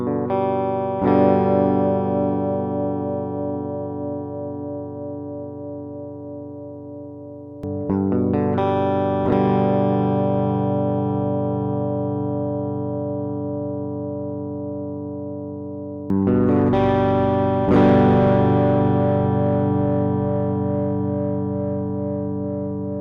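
A Positive Grid Riff guitar interface plays factory preset tones, with three sustained, distorted guitar chords rung out one after another, each decaying slowly before the next strike. Nobody talks.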